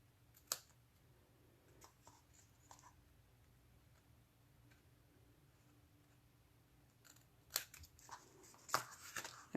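Scissors trimming the bottom edge of a papercraft piece, faint sparse snips and clicks up close in a quiet room, a few sharper cuts near the end.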